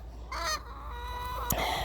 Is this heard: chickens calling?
yes